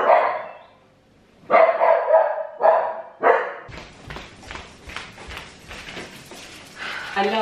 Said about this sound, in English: I love the way the dogs let me know when someone is here before they've even got out of the car.